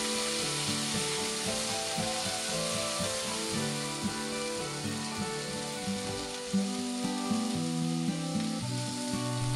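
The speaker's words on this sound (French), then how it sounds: "bien huiler la poêle et les faire saisir 30 secondes de chaque côté" Beef searing in a well-oiled frying pan over fairly high heat for spring rolls, a steady close sizzle and crackle that runs throughout with occasional louder pops, no talking.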